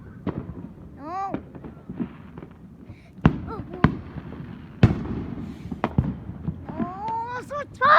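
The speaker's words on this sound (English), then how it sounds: "Fireworks is everywhere." Loud fireworks burst outdoors in a string of sharp, separate cracks and bangs, some close and booming, scattered across the stretch; a person's upset voice and whines are heard between the blasts.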